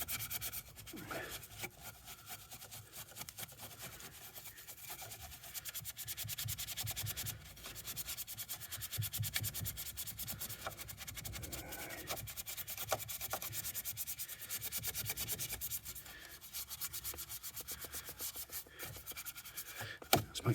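Scrubbing inside a Porsche cabin, working cleaning liquid into an interior air vent with a brush, gives a steady close-up rubbing and scratching that runs continuously with small bursts, alone and without talk.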